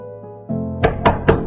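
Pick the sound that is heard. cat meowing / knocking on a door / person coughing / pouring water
knocking on a door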